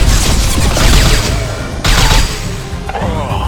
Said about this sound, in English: Nice shooting, Jacob and Garrus